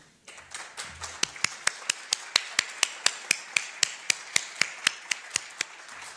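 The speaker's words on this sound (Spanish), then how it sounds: "Les damos entonces un caluroso aplauso para darnos ánimo para iniciar este evento" An auditorium audience at a public event claps in unison, sharp synchronized claps in a steady, slightly quickening rhythm over a soft bed of scattered clapping.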